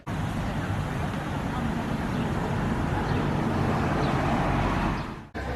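Heavy street traffic from many cars outside a butcher shop forms a dense, continuous roar of engines and tires that stays loud throughout before cutting off abruptly near the end, with voices faintly mixed in.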